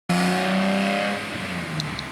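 Car exhaust fitted with a welded-in bottle resonator while driving, a loud sustained engine drone that eases off after about a second into a rougher, quieter rumble, with no voices.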